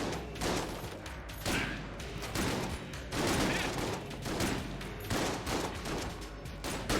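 Rapid, loud shotgun blasts from the video game Enter the Gungeon fire in dense bursts throughout, overlapping into near-continuous barrages of game gunfire with brief gaps between volleys.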